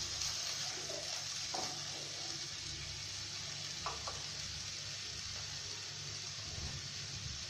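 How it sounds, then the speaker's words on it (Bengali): Shredded cabbage with a little salt being stir-fried in a pan for veg momo filling, a steady close sizzle with occasional scraping stirs and no talking. "আর একটু নেড়ে নিই।"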